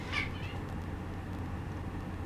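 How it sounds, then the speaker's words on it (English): A pet cat gives a single short, close meow near the start, after which only a low steady background hum remains. "She hopped on the bed while she meowed"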